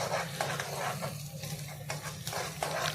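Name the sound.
onions being stirred and fried until brown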